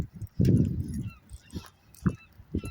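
A dog gives a short muffled bark or huff, then a few faint whimpering and snuffling sounds, close and quiet.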